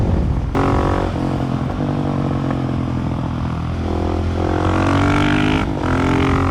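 A Husqvarna 701 Supermoto single-cylinder motorcycle accelerates hard on a bumpy road, its loud, close engine note rising through the revs, dipping briefly, then climbing again over rushing wind.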